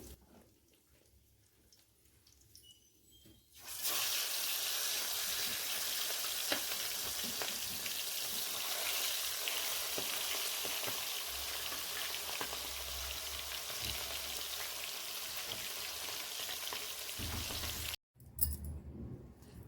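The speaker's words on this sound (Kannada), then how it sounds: "ಎಣ್ಣೆ ಕಾಯ್ದಿದೆ, ಎಣ್ಣೆಗೆ ಚಿಕನ್ ಹಾಕ್ಕೊಳ್ಳೋಣ." Marinated chicken goes into hot oil for chicken mandi. After a few quiet seconds, a loud, close sizzle erupts and crackles on steadily for about fourteen seconds, then cuts off briefly before the frying resumes.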